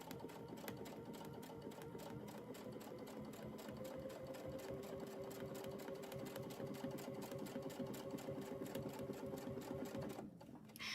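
Close, steady whir of a sewing machine doing free motion ruler work quilting on a log cabin practice panel, fast needle rhythm running continuously before stopping abruptly near the end.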